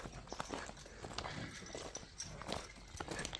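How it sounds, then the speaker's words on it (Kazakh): A Polish horse of a light European breed, just over two years old, clip-clops along with a run of faint, irregular hoofbeats over low background noise, with no one speaking. "Buna Avrupa жылқысы, кезектегі Польша жылқысы"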